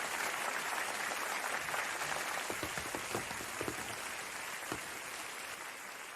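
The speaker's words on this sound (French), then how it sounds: "c'est Gojo qui se fait applaudir en fait." Applause in an anime scene from Jujutsu Kaisen episode 28, heard as a dense hiss of clapping with a few sharper individual claps standing out toward the middle, steady and moderately loud throughout.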